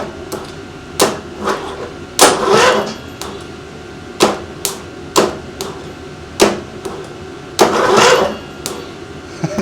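Repeated attempts to start an engine at half throttle and choke: sharp, regular knocks about once per second, with a couple of longer, louder cranking bursts between them, close and fairly loud, no speech.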